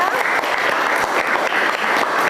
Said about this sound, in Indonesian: yuk berikan aplaus tepuk tangannya